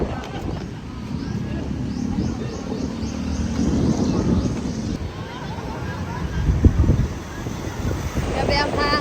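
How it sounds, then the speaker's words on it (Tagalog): Strong wind blows across an outdoor walkway in Boracay, a steady roaring rumble buffeting the microphone, with distant voices, a crowd murmur and a few bird chirps. "Grabe ang hangin."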